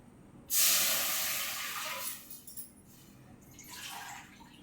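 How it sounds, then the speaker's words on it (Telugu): Water gushes out in a loud hissing pour for about two seconds, stops, then a softer second pour follows briefly. "అదే గిన్నెలోకి వాటర్ పోసుకుందామండి"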